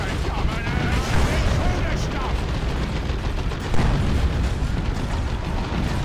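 A dense battle roar from Dawn of War 2 fills the space, with constant gunfire, artillery and explosions blending into a loud, unbroken wash. One heavier boom rises midway, and a voice may sit faintly underneath.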